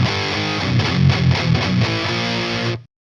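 Heavily distorted electric metal guitar played through a distortion pedal, a thick buzzing chordal tone with rhythmic picking swells, loud and close, running steadily before cutting off abruptly.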